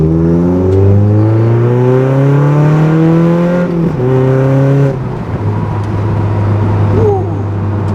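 A Mazda NC Miata with a modified exhaust revs hard close by, its loud engine tone climbing and falling through several throttle blips before settling into a steady rumbling idle.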